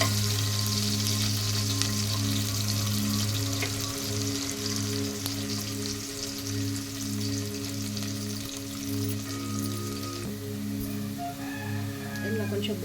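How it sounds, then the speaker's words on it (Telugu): Garlic and dried red chilli pieces sizzle steadily in hot oil in a pan for a ridge gourd and moong dal curry, with occasional stirring scrapes over a constant background hum. "వెల్లుల్లి ముక్కలు వేసి కలుపుకోవాలి. ఇది కొంచెం లైట్ బ్రౌన్ కలర్ రావాలి."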